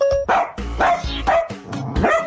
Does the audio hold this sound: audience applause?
no